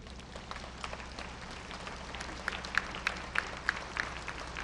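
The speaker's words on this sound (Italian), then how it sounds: "Un lungo applauso accompagna poi l'uscita del feretro dalla chiesa." Long applause from mourners as a coffin is carried out of a church, faint and distant, a steady patter of many hands with a few sharper claps standing out toward the end.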